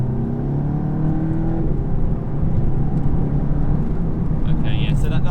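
A VW Golf Mk7.5 GTI TCR engine at barely any throttle, a low steady hum and drone from inside the cabin with a slight change in pitch partway through, continuous and moderately loud.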